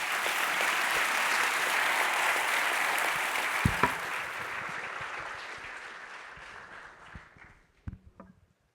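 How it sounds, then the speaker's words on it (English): Audience applause after a tech talk, steady and fairly full at first, then thinning and fading, with a few scattered closing claps and light movement near the end. "Give him a round of applause"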